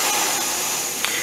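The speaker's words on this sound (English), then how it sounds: "you can really crank out the flame on this thing" A Primus Express camping stove burns with its flame turned up high, giving a loud, steady, close roaring hiss with a brief click near the end.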